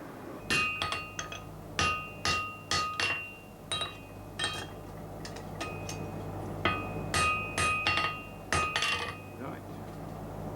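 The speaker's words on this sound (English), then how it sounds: "The blacksmith is now using the hammer to forge the steel block." A blacksmith's hammer strikes a hot steel block on the anvil in clusters of sharp, ringing metallic blows with a bright, bell-like tone, close and loud, with short pauses between bursts.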